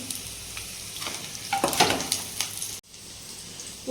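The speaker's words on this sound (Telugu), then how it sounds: "చూడండి ఇప్పుడు ఎల్లిపాయలు మగ్గుతున్నాయి కదా" Garlic cloves frying in hot oil with fenugreek powder and turmeric for a gongura dish, a crackling sizzle that swells with a few stirs, then cuts off abruptly and returns quieter.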